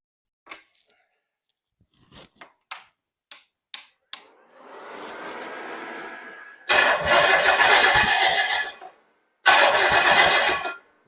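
A Pontiac 400 engine on a shop Edelbrock carburetor cranks with short clicks and a rough whir, then catches. It fires in two loud roaring bursts separated by a brief pause.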